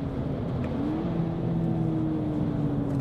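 A 2018 VW Polo GTI engine drones loudly and steadily under full-throttle acceleration, its pitch rising smoothly as it pulls, heard close and continuous.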